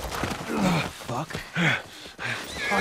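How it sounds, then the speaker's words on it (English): A horse whinnies and snorts several times in the video game The Last of Us Part I, with overlapping voices and game sounds throughout. "Just get the horse."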